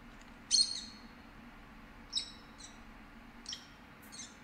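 A red bird in the game Virginia gives four brief, high chirps spaced a second or more apart over a faint steady hum, the first loudest and the later ones softer, with no voices.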